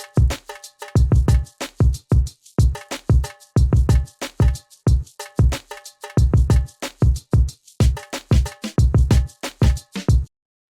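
A programmed hip-hop style drum beat with a deep, powerful kick drives a loud, tight, looping groove, with punchy kick hits and bright percussion in a steady repeating pattern.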